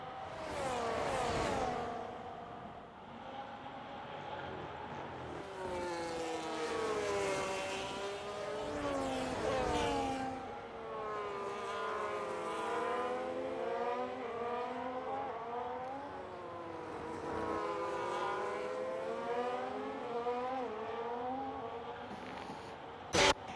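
Race cars circling a Singapore street circuit in a sim racing game, engines repeatedly revving up and down through gear changes as cars pass in waves, loud and continuous with no talk.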